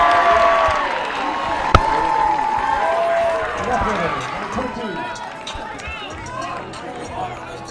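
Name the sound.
baseball crowd chanting for ball four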